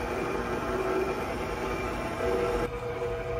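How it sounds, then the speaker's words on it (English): An electric mixer whirs steadily while baking soda for bath bombs is blended, a continuous motor drone with a faint tonal hum that dips briefly near the end, and no talking. "The mixer's a little loud."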